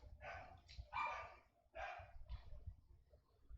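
Several dogs bark indoors at a distance, a quick run of muffled barks with short gaps, moderately faint and heard alone.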